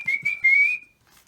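A single voice whistles a bright, rising-and-falling call in imitation of frightened birds crying out, a few quick chirps leading into one sustained whistled note, close and clear, told aloud at an outdoor story hour.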